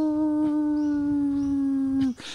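A human voice imitates a Fraser Island dingo howl, holding one long steady wavering tone for about two seconds before breaking off, loud and close.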